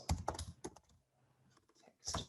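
Close computer keyboard typing during a live coding demo at a tech conference: quick clusters of keystrokes, a quieter pause in the middle, then a final burst.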